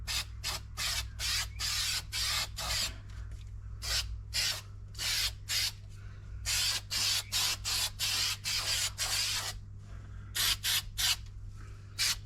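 Spray adhesive for the carpet of a 1957 Bug is sprayed in many short, sharp hissing bursts in quick succession, close and fairly loud over a faint steady hum.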